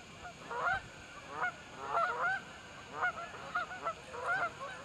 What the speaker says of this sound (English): There's about to be a goose powwow over here.